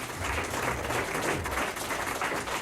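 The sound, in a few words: studio audience applause for Tori Amos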